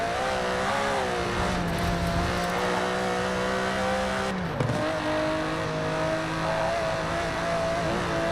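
An Aston Martin DB11 engine revs and drones under steady acceleration in the racing game Forza Horizon 4. The tone holds loud and sustained, dips briefly at a shift, then climbs again, with no talking.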